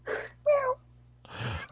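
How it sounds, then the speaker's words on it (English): A short meow sound effect plays during a livestream, two brief whining cat-like calls separated by a pause, followed by a breathy noise and a sharp thump. "we got the meow sent out"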